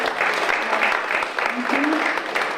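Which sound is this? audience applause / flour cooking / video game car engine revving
audience applause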